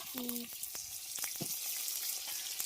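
Four kilograms of chicken fry with onions in a large pan, giving a close, steady sizzle broken by stirring clicks and scrapes, with a brief faint tonal sound near the start.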